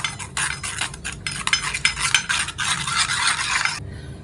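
Three ingredients for a potato-based hair paste are stirred briskly in a bowl, producing rapid scraping and clinking of a spoon in bursts, close and loud, with no talking.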